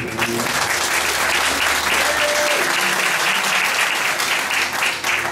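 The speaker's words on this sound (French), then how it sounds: "Oui, vous pouvez l'applaudir." Loud, continuous audience applause at the Miss Cristal 2012 beauty pageant, a dense crowd of clapping hands over a faint musical tone, with light crowd murmur beneath the clapping.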